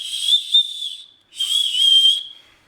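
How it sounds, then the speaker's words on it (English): A shrill whistle is blown twice, close and loud, the first blast a bit over a second with a wavering pitch, then a short pause and a second blast. "there is a whistle in here"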